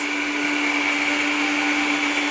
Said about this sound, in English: It takes about 8 to 10 minutes maybe for my mixer to do it